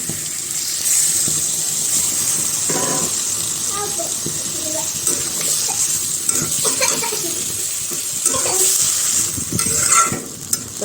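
Spice masala is sautéed in a pan after a splash of water, with a continuous soft sizzle under repeated scraping and stirring of a spoon. Occasional knocks sound close by.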